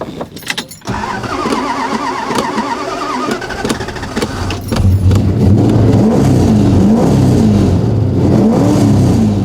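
A muscle car fitted with Hooker headers and a full rear-exit MagnaFlow exhaust cranks, fires up loudly and settles into a deep, lumpy idle with throaty revs, close and dominant.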